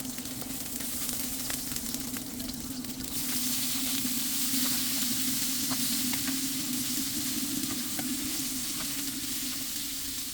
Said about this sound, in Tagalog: Tamang halo lang din hanggang lumambot ang sibuyas.